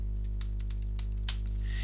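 Clicky keystrokes on a computer keyboard land in an irregular run of about a dozen taps over a steady low hum, fairly faint and with no voice.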